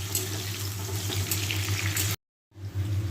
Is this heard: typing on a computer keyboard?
no